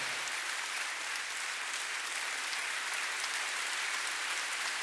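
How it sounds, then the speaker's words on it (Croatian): A concert audience applauding, a dense, steady roar of many hands clapping that holds at full strength throughout, with no voices standing out. "To je vrhunski glazbenik, jedan veliki aplauz"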